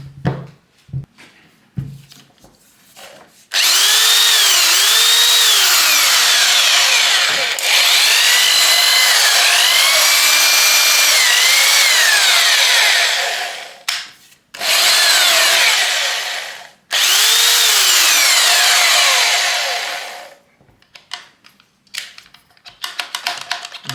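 A Black & Decker BDHD500 corded hammer drill runs in two long sustained bursts with a steady whine and shifting pitch, separated by a brief stop, with a few handling clicks before and after.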